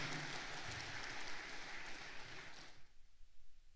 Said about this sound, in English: A round of applause one more time, ladies and gentlemen.